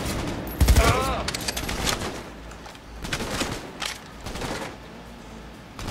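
Gunfire from the video game Cyberpunk 2077: a loud burst of shots up close early on, followed by more scattered, quieter rounds of fire over a steady game background.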